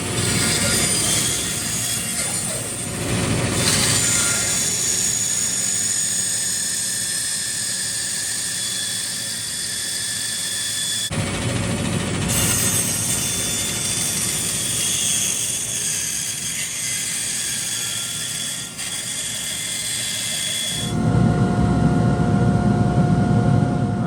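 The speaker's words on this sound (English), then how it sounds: "if you don't have a bandsaw, I'm just cutting them because you're getting more nutrition out of it that way" A bandsaw cuts through bones for broth, a loud sustained whine with a harsh grinding edge that dips briefly mid-cut and swells heavier near the end, no talk over it.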